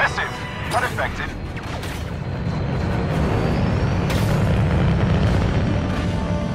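Proton torpedo blasts in Star Wars Battlefront II: heavy booming explosions and a rising rumble of starfighter engines, loud and close, with brief sharp impacts early on under a sustained roar.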